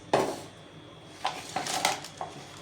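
A metal pot holding quail to be boiled is set down on a gas stove, giving a sharp clank followed by several lighter knocks and scrapes of cookware at close range.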